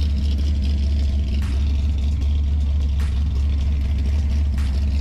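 A 1966 Ford Mustang with a 289 V8 idles close by, a steady deep low rumble running unbroken and loud throughout, with faint brief ticks above it.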